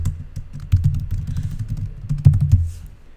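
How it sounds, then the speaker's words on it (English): Rapid clicking of computer keyboard keys as someone types text into a web form field, with close, irregular bursts of keystrokes and no talking. "Let's type full name."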